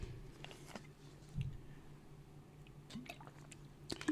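Someone drinks water in a quiet room, with soft wet sips, small squishy swallows and light clicks spread across a few seconds, faint and close.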